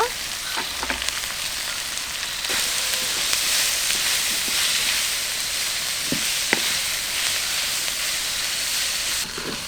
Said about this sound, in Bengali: পেঁয়াজ রসুনটা আমার ভাজা ভাজা হয়ে গেছে